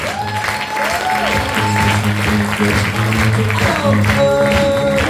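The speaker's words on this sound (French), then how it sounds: "on les applaudit très fort." Audience applause in a theatre after an improvised musical show, a steady wash of clapping beneath loud sustained music and tones, with no break in the sound.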